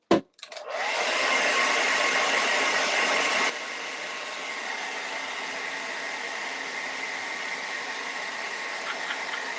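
A hair dryer blows on a freshly painted Halloween door hanger, a loud steady broadband whoosh that starts abruptly, then drops to a lower setting partway through and keeps running alone to the end.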